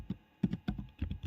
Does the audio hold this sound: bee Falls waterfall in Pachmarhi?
no